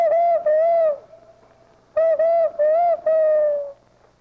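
An owl hoots in two bursts of strong, harmonically rich calls, each a quick run of three or four notes, loud and close, with a quiet pause between, voicing a territorial call at a wildlife camp in Henderson County, North Carolina.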